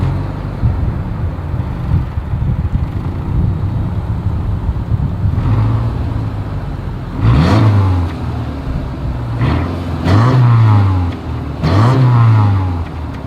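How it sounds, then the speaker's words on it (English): A 2023 Subaru Forester engine idles with a low rumble, then revs sharply three times, each exhaust roar climbing and dropping back, close and loud. "As always, here is that exhaust clip."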